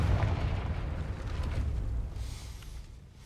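Confringo fire spell exploding in Hogwarts Legacy, a loud low rumbling blast with crackling debris that fades out over a few seconds.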